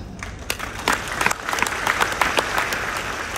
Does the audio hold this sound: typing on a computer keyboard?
no